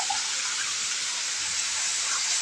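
Water runs in a steady, continuous hissing stream while dough is moistened during home cooking of a koyigura fry, with no talk over it.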